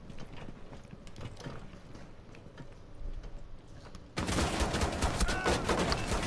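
Gunfire in the video game Rainbow Six Siege, scattered clicks and shots under game ambience, then a sudden loud dense burst of rapid firing for the last two seconds, no talk.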